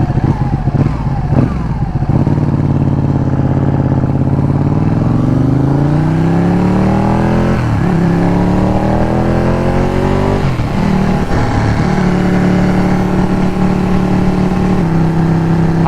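A Ducati Panigale 1199 motorcycle ridden in freezing weather, its loud engine note rising and falling through several revving climbs and gear changes, with strong wind rush over a steady drone and no speech.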